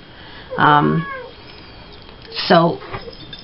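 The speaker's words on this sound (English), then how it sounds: "that's my cat Butterscotch" A cat meows twice, clearly and close by, with a pause between the calls and faint background hiss.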